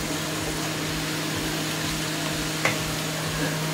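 Potatoes and button mushrooms frying in a pan give a steady, even sizzle with a faint low hum underneath and one brief clatter near the end.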